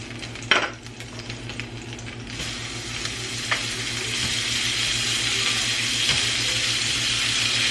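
Burgers frying in a pan give a steady, close sizzle that builds and holds, with a few sharp pops and utensil clicks early on and no voices.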